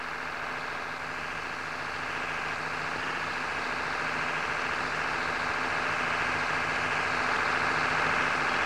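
A 1970s Perkins diesel engine runs steadily as its throttle is advanced under increasing load. It gives a quiet, even drone with a faint, gradual build in level, and no voices are heard.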